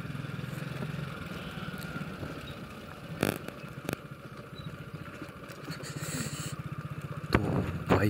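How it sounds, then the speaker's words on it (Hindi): A tractor approaching from behind on a badly broken rural road, its engine a steady low chugging rumble that swells and knocks closer over a bumpy, rattling ride with occasional scraping clatter. "अभी पीछे से एक ट्रैक्टर भी आ रहा है।"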